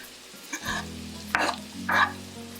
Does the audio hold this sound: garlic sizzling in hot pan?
yes